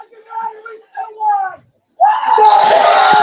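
A Western Reserve football crowd at a game bursts into a loud, sustained roar of yelling and cheering after a few seconds of close talk and a brief pause.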